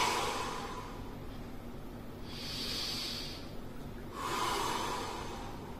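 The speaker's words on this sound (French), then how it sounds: "J'aspire par le ventre, par le nez, par le ventre. J'expire par la bouche." Slow, deep abdominal breaths during a thigh and abs workout: a long airy inhale through the nose, then a broad hissing exhale through the mouth, close and steady with no talking.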